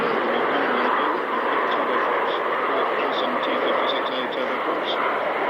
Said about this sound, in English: Maritime patrol aircraft.